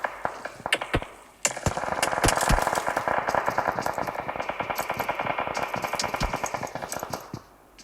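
Sustained rapid automatic gunfire in the battle-royale video game PUBG, loud and close, with a few single shots before a long rattling burst that runs most of the way through.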